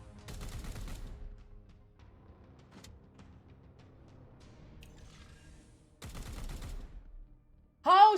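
Two short bursts of gunfire in Chaos Gate Daemonhunters, one at the start and another a few seconds later, are separated by a near-silent gap.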